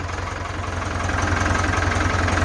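An old Ford tractor engine idling close by, a steady low, throbbing rumble with an even mechanical pulse and no voices.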